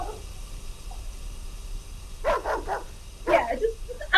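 A dog barks in two quick bursts of several yaps each, fairly loud and close, with a faint voice earlier in the background.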